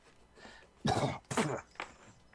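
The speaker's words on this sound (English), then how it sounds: "Doctor's coughing." Three harsh coughs close up, the first two strong and back to back, the last one weaker and shorter.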